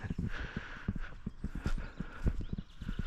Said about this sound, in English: all of a sudden I felt some sheep running behind me and feet